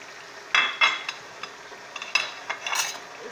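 Red snapper frying in a pot, heard as soft, steady sizzling with a few brighter clinks and stirring scrapes. It is close and moderately quiet, and no one talks.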